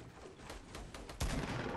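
Gunfire in a Fortnite match: a rapid run of sharp shots over busy game noise, with a louder, heavier blast near the end.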